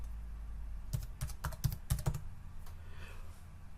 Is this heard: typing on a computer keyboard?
yes